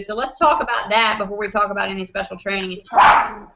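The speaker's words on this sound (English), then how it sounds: "That's my dog." A pet dog barks once in a short, loud burst near the end, after steady close-up talk at a home during an online team hangout call.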